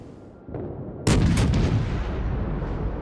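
Naval guns fire in the World of Warships video game: a soft distant boom, then a loud close blast whose rumbling roar lingers and slowly fades over several seconds.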